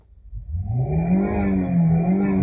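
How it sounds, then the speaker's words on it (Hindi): A 2014 Toyota Corolla GLi 1.3 engine cranks and catches, rising quickly into a steady close idle hum that holds for a couple of seconds. "मैं गाड़ी को स्टार्ट कर लेता हूँ"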